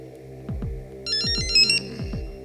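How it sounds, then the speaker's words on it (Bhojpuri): An electronic telephone ringtone sounds during a comic phone-call skit in a Holi song, with a repeating melodic ring over a steady background of music and beats. "इनकी बुढ़िया को फोन लगाया जाए।"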